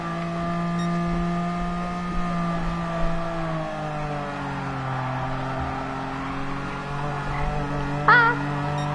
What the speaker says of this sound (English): there's a car trying to beat me